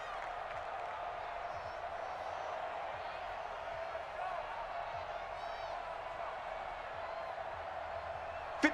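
Stadium crowd noise inside the Dome in the Madden NFL 20 video game, a constant loud wash of cheering and murmur under a commentator's voice.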